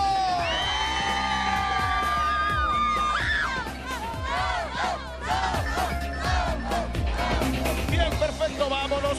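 An audience at a televised competition shouts and cheers loudly, with sustained yells, whoops and overlapping crowd voices throughout, dipping briefly before swelling again.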